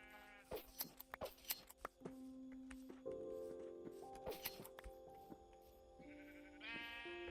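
Sheep bleat repeatedly in a video game, wavering cries from several animals scattered across a few seconds, moderately close, over soft game background sounds and brief clicks.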